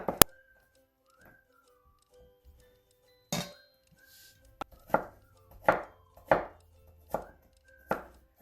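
A knife chops cucumber on a board in a home kitchen, a series of sharp, distinct cuts, sparse at first then about eight steady strokes, close and alone without talk.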